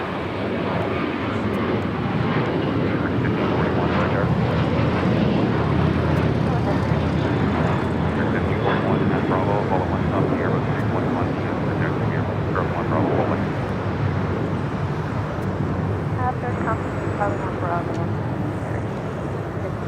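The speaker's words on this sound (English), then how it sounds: "WestJet coming in from Winnipeg, 737 at MAX 8" WestJet Boeing 737 MAX 8 landing at LAX after a flight from Winnipeg, a loud, sustained jet roar that holds steady for the whole stretch.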